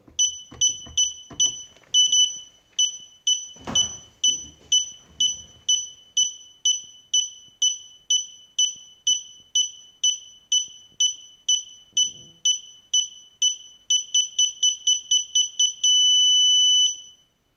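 A Teknim burglar alarm beeps in a rapid, steady two-tone pulse that speeds up near the end into a continuous tone, with brief speech and handling noises early on.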